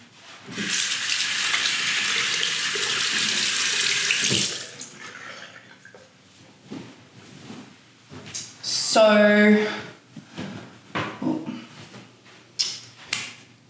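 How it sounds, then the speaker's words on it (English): Hands rinsed under a running tap that gushes loudly and steadily for several seconds, then stops, followed by a clunk of handling and someone talking nearby. "I'm just gonna rinse my hands."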